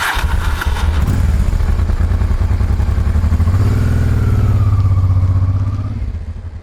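Motorcycle on a Balkans road trip, troubled by a breakdown, being started: a loud close rapid engine chatter that settles into a throbbing idle with a rising whine, then fades slightly at the end, no voices.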